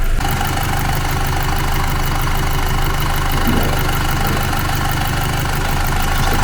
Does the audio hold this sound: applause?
no